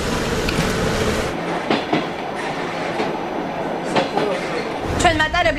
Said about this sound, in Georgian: ჩვენ მატარებლით აეროპორტიდან სადგურამდე ვიმგზავრეთ